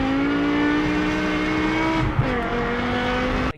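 BMW M6 with a V10 engine accelerating on the road, a loud, close engine note climbing steadily in pitch, briefly dipping and then rising again, before it cuts off sharply at the end.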